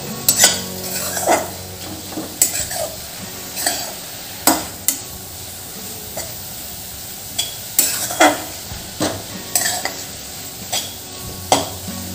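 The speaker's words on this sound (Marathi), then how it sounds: "पालेभाजी आपण तेलात छान परतवून घेतो आहे।" Amaranth leaves sauté in oil in a kadhai over low heat, a soft sizzle under repeated sharp clanks and scrapes of a spatula against the pan at irregular intervals, close by and without talk.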